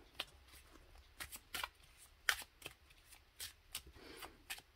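Tarot cards are shuffled close up in a quiet room, a run of soft, irregular riffles and flicks.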